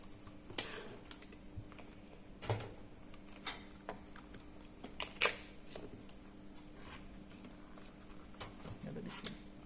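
Sparse clicks and taps at a desk during a PC build, fitting keyboard typing, with scattered irregular keystrokes over a faint steady background hum and no one talking.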